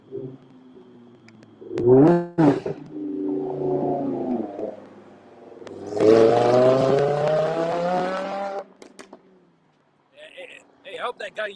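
A fast car passes on a highway with its engine revving in a loud, rising, harmonic whine that swells and then drops away, between stretches of someone talking.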